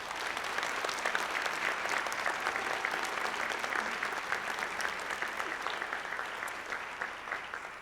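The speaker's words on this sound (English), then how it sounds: "Can we give Linda a round of applause?" An education celebration audience applauds Linda Chamberlain with a dense, even wash of clapping that holds steady throughout before easing slightly near the end.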